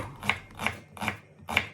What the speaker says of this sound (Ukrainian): Дрібненькими кубиками нарізаю почищену і помиту цибулю.